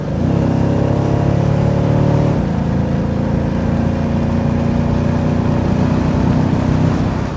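A 1989 Aston Martin V8 Volante accelerates hard along a farm road, heard from inside as a loud, dense engine roar with a brief shift in tone partway through, continuous and without speech.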